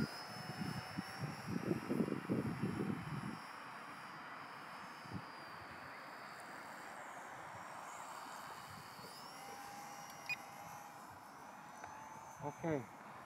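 A small 2.4GHz RC glider plane with 6-axis gyro stabilization flies outdoors in the wind, its thin electric motor whine faint and drifting in pitch. Someone talks briefly at the start and again near the end.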